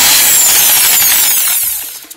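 A drill machine bores a hole into concrete, a loud harsh grinding whine that holds steady and then winds down and fades near the end as the bit slows, no voices.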